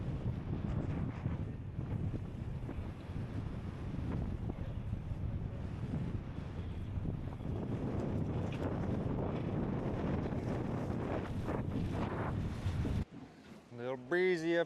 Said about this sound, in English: pretty dang cold this wind, and we're blowing around quite a bit